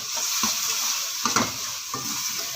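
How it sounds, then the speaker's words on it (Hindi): Tomatoes and chillies fry in a pan of spiced oil, giving a steady close sizzle with a few soft stirring scrapes. "अब आपने ये जो टमाटर मिर्चें काट के रखी हैं अब इसमें ऐड कर दें और इसको अच्छे से भून लें।"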